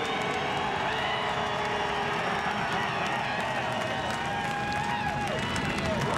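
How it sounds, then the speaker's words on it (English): A big crowd at a Saturday afternoon NASCAR Busch Series race cheers and applauds in a dense, continuous roar. Someone talks over it throughout. "listen to this crowd. They appreciate what they just saw."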